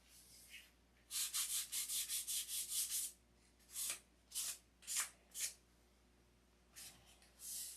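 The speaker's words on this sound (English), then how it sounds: "Even when using 1000 grit, you got to be really careful because 1000 grit will cut right through this paint." Sanding thin paint by hand with 1000 grit sandpaper, heard as a run of rapid, even rasping strokes up close, then a few separate longer passes with short pauses between them.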